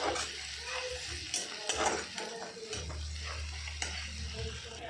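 Turmeric being stirred into sizzling masala for egg bhurji in a pan, a steady close frying hiss with scraping stirring strokes over about five seconds.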